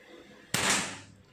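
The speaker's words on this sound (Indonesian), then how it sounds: "Saya coba kembali beberapa kali tembakan." A single sharp, loud air rifle shot cracks out suddenly, then fades quickly against a quiet background.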